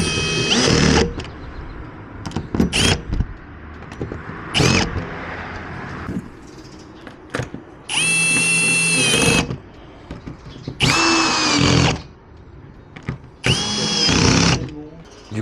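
A power drill drives screws into solar panel mounting in several short bursts of steady whirring, close and loud, separated by clanks, handling noise and brief pauses.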